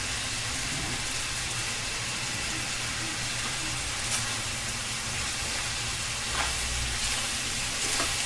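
Spaghetti sauce ingredients sautéing in a pan, a steady loud sizzle and crackle of frying with faint stirring scrapes, continuous and close, no voices.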